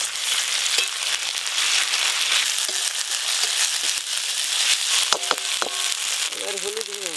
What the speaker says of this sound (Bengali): এবার পেঁয়াজ ভাজা হয়ে গেছে, এবার বাটা মশলা দিয়ে দেবো